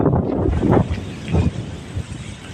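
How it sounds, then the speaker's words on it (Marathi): Strong gusting wind buffets the microphone as a rainstorm begins, loud irregular low rumbling bursts rising and falling close by, with no voices heard. "अचानक पावसाचं वातावरण कसलं वातावरण झालं वारं सुटले"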